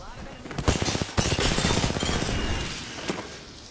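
Distant weapon fire in a battle-royale shooter game, a few sharp cracks and bursts spread over a busy mix with a voice talking over it.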